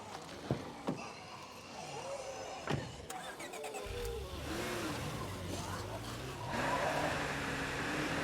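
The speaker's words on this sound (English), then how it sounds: "we're going to try to get back into our car nice and quiet and head back to base." Car engine in the zombie survival game State of Decay 2 starts up and settles into a steady driving drone, with a few sharp knocks beforehand and low rumble building over the second half.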